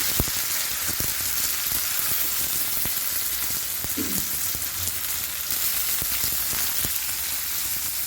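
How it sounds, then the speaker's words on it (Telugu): Boiled chicken, seasoned with salt, turmeric and chilli powder, frying with fenugreek leaves and onions: a loud, constant close-up sizzle with occasional small crackles and ticks throughout. "చికెన్ ఫ్రై చేస్తున్నా."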